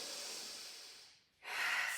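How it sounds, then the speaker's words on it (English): Slow breathing held in a yoga chair pose: a long, airy exhale that fades to near silence, then a fuller, hissy breath rises again, close and soft with no talking. "we're going to take 5 breaths here."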